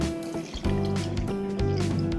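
Water poured into a pan of tomato sauce made from canned tomatoes and paste, a close sputtering, squishy liquid splash in short uneven bursts.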